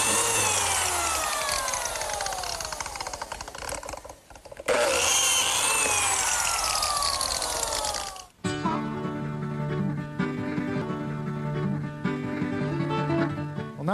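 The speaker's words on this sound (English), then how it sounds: "I use this biscuit joiner, which is a tool specifically designed to pivot and plunge this little saw blade" A biscuit joiner plunges its small saw blade into wood to cut half-moon slots, with two loud close bursts of motor whine and cutting that sweep down in pitch, then the motor spins on steadily.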